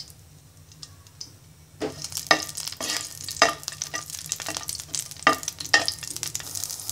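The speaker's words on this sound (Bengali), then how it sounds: "এবার একটি ফ্রাই প্যানে 1 টেবিল চামচ পরিমাণ সরিষার তেল দিয়ে দিব। এবার 4টে কাঁচা মরিচ হালকা ভেজে নিব" Four green chilies fry in a spoonful of mustard oil in a frying pan for a Bengali bean bharta. A close, steady sizzle starts after a quiet opening, broken by sharp clicks of stirring.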